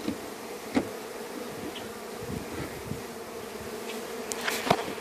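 Honeybees buzz steadily around a hive, a constant close droning hum with a few faint knocks and handling sounds, no voices.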